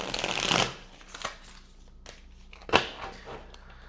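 A thick tarot card deck is shuffled by hand, with two or three crisp riffling bursts of cards separated by quiet pauses, close and fairly soft.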